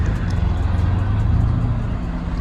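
Cars pull away slowly after a meet-up of an Opel Kadett crowd, with a continuous close rumble of engines and tyres rolling at low speed.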